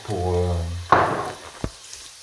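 Sautéed potatoes frying in a non-stick pan, with a soft, steady sizzle and hiss after a voice at the start, broken by a sharp clatter near the middle and a second small knock.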